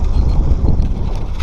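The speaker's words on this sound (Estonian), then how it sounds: "aga tegelikult on päris vastik tuul" Strong wind roars steadily across the microphone on a gravel county road near Moab, Utah, a loud, continuous low buffeting rumble with no other sounds over it.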